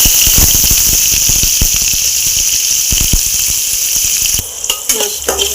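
Onions fry in a pan for a potato and pointed gourd dorma, a loud continuous sizzle broken by stirring clatters, then the sizzle drops abruptly near the end leaving softer scraping.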